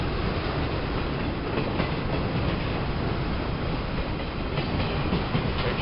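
A Norfolk Southern freight train rolls past at close range, a steady, loud broadband rumble of wheels and railcars with faint rhythmic clatter running unbroken throughout.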